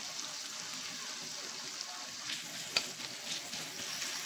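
Ginger frying in hot oil for a festive biryani gives a steady, close crackling sizzle throughout, with one sharp pop near the end.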